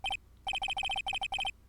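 An electronic telephone rings in the Ace Attorney video game, sounding in bright repeated trills grouped into several short rapid bursts.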